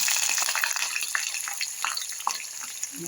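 Onion pieces sizzle and crackle in hot oil with mustard seeds for an okra (bendakaya) curry, a steady, close frying hiss with small pops throughout.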